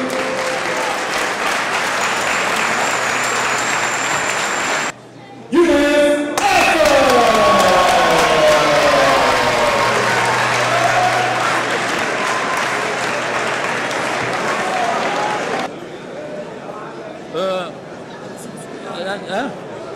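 Applause at a boxing training event in Marseille, with steady clapping from a crowd that breaks off briefly and then returns, interrupted by loud voices and cheering, and fading into quieter chatter near the end.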